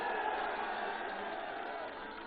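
A large crowd at a Samajwadi Party election rally in Ghazipur, Uttar Pradesh, claps and cheers in a dense, steady roar that fills the whole stretch.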